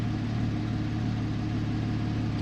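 Porsche 911 Carrera S Cabriolet (991.1, PDK) with its sports exhaust switched on in Sport Plus, idling steadily with a deep, even rumble close by, no speech over it.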